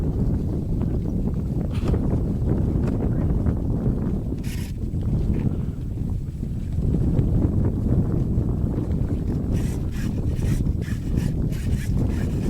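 Strong wind batters the microphone at an RC model flying field, a continuous heavy low buffeting roar that swells and eases in gusts, with a few faint thin ticks on top.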